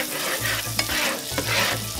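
Olive oil and butter sizzle steadily in a frying pan, a continuous close crackle with a couple of sharp utensil clicks along the way.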